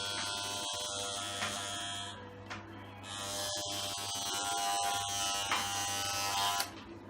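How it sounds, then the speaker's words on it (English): Electric hair clippers buzz steadily and loudly close by as they shave off a section of hair during a self-haircut, with a constant hum and brief shifts in pitch as the blade moves through the hair. "this buff has got to go. I'm going to shave it off."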